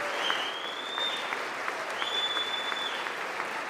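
Audience applause fills a large hall during a presidential State of the Union address, a steady wash of many hands clapping with crowd noise throughout.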